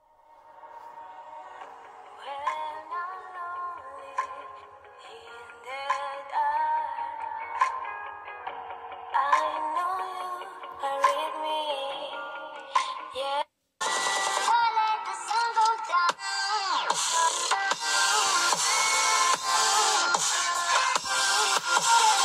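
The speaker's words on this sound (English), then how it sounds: "we're going to do a speaker test. I just have some YouTube videos playing." Thin, bassless sound from the small speakers of an Evolve III Maestro eBook 11 budget laptop plays voices and music, quieter at first, then brighter and louder after a brief gap.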